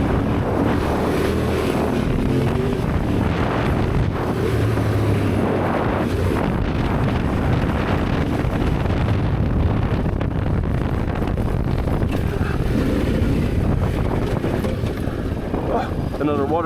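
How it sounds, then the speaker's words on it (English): Steady wash of water and wind noise under a running Yamaha Tenere 700 motorcycle engine, with a broad churning roar throughout as it pushes through a shallow water crossing on a trail in Spain. "Another water crossing."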